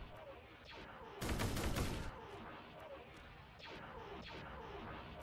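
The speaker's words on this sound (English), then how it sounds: "That is firing everything it has." A Star Wars Imperial ship fires its weapons in Garry's Mod: a loud burst of rapid blasts about a second long, then scattered distant shots over a low rumbling background.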